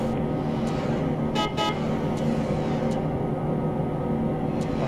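Two short honks from a bus horn sound in the Bus Simulator Bangladesh game while overtaking, over a constant droning engine and road noise with a few faint clicks.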